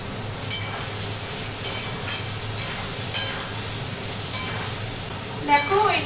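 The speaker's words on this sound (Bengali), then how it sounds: "এটাকে কুমড়োটাকে এখন ভালো করে ভাজা ভাজা করে নেব" Pumpkin pieces sizzle steadily in a hot pan, a constant close crackling hiss broken by several soft knocks and scrapes as the spatula stirs them.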